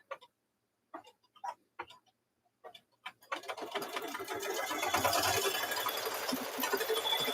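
An embroidery machine stitching in the hoop on a zipper bag, starting with a few separate clicking stitches before settling into a steady, fast mechanical chatter that is close and loud.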